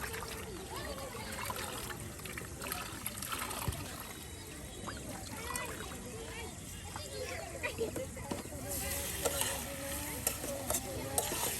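Spice paste sautéing in a pan over a cooking fire, with continuous sizzling and repeated stirring scrapes under someone talking outdoors.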